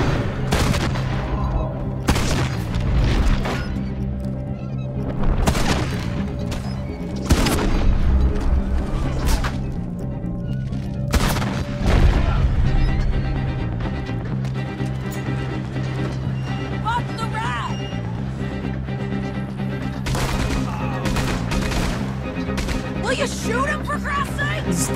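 Maxim machine gun firing in Red Dead Redemption 2, sharp bursts and booming shots scattered across a busy battle mix, with someone talking over parts of it.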